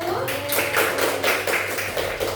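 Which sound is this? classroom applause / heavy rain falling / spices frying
classroom applause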